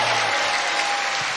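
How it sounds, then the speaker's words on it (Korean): Continuous applause from an audience at a Korean speaking event, a dense, even wash of clapping hands that fills the whole moment without any voices. "다시 한번 우리 박수로 감사하겠습니다"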